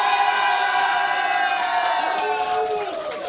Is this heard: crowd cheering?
yes